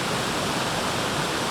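Steady broadband roar of a waterfall pouring down in the Snowdonia hills, loud and continuous with no voices over it.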